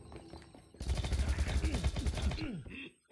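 Rapid gunfire from soldiers in the side-scrolling game Rocketbirds: Hardboiled Chicken, a dense burst of repeated shots lasting about two seconds, loud and continuous, then cutting off abruptly into quiet.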